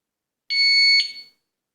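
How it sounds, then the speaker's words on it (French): A Xena XX disc brake lock alarm gives a single sharp, high-pitched electronic beep, loud for about a second, then cuts off quickly into silence. "Vous voyez, là, ça bip."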